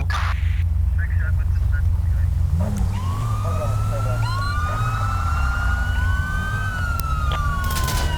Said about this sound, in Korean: 네, 일반 경찰차네요.